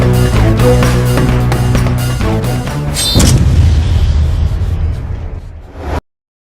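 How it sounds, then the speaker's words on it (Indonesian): Drama sound effect of an explosion and fire inside a building: loud music-like booming bed, a sharp burst around the middle followed by a rumbling roar that fades before cutting to silence. "Pak Aris, terjadi kebakaran dan ledakan di dalam, Pak."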